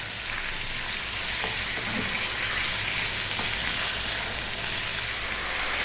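About a pound of lamb fries in a pan over medium heat while being stirred often, a steady dense sizzle with a few faint scrapes, close and even throughout.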